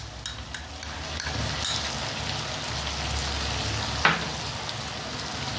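A paste of ground ginger and fennel seed sizzles in hot oil with fish, giving a steady, crackling fry with a few sharper pops and spits close to the pan.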